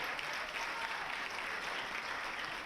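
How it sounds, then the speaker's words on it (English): A crowd applauds steadily and evenly at a poetry recitation event, a dense wash of clapping with no voices rising above it. "A round of applause for Maura."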